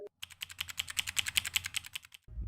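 Rapid clicky mechanical keyboard switches typed in a steady burst of sharp, close keystrokes lasting about two seconds, with no voices over them.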